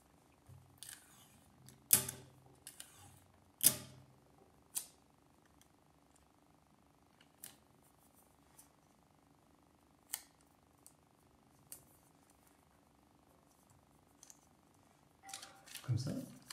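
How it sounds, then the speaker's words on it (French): Sparse, sharp crackles and quick tearing snaps of Scotch tape, close up, being stuck onto a sheet of paper, scattered among quiet pauses, with a louder rustle near the end. "je vais mettre deux petits bouts de scotch de l'autre côté"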